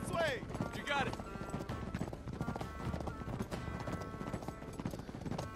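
Rapid, rhythmic hoofbeats of a galloping horse in the video game Uncharted 3, on a desert convoy chase, with a neigh near the start and game speech and action noise layered over the steady clip-clop.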